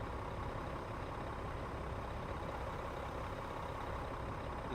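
A Kenworth T680 100th Anniversary Edition truck idles in a trucking video game, a steady low diesel rumble with a constant broadband hum, moderately quiet and unbroken.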